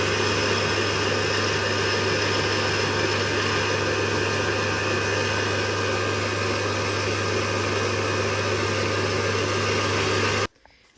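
An electric mixer whips cream with powdered sugar for a pistachio-cream tiramisu, a loud, steady motor whir that holds constant for about ten seconds, then cuts off abruptly.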